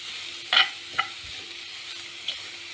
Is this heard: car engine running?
no